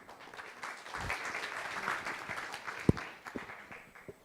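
Light, fairly quiet applause from an audience at an international land policy forum, a thin scatter of claps with a few sharper individual hits.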